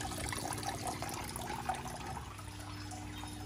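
Water spills steadily out of a ceramic koi pond filter, a continuous close trickle and splash holding an even level throughout, alone.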